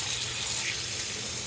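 Cold tap water runs steadily into a sink, rinsing a dirty 1940s 48-star U.S. flag; a loud, even hiss with no voices.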